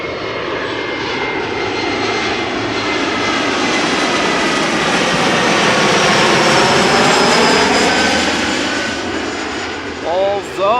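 Jet airliner passing close overhead on arrival at Amsterdam Schiphol Airport, a loud swelling engine roar with whining tones that builds, peaks and slowly fades, with brief voice-like sounds near the end.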